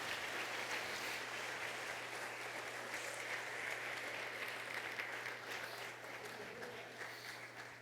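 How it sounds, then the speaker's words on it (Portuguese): Church congregation applauding steadily throughout, a dense, moderately distant wash of clapping with a low steady hum beneath, tapering slightly toward the end. "Dá um aplauso ao Senhor."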